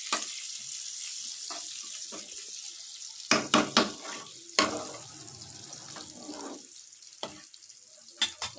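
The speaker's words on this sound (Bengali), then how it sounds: "আর দিয়ে দেবো গোটা গরম মশলা ভাজা ভাজা করবো একটু" Whole garam masala with bay leaf frying in hot oil gives a steady hiss, with a few sharp clinks and scrapes of stirring partway through and no talk.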